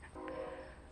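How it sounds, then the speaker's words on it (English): Train rolling past behind a backyard garden on a Sunday, a steady rumbling drone of rail cars with a brief tonal horn-like note, moderately distant with no voices. "Now the train is also passing"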